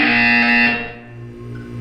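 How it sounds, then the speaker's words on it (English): A harsh, distorted electronic buzzer from the Portal 2 video game blares loudly and steadily for about a second before dropping to a quieter hum, with no voices present. "When you hear the buzzer, look up at the ceiling."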